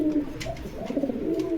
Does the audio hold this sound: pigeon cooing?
yes